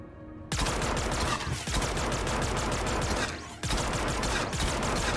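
Dense, sustained automatic gunfire in the first-person shooter Star Citizen during an FPS combat mission, a loud continuous fusillade of rapid shots with a brief drop near the start and another short break before the firing resumes.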